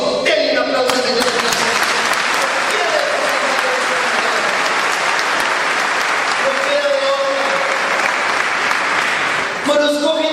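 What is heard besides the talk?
church congregation applauding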